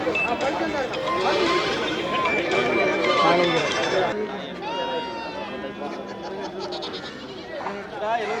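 Goats bleating amid a busy crowd at the Melapalayam livestock market, repeated calls rising over steady chatter and bustle, with people talking throughout.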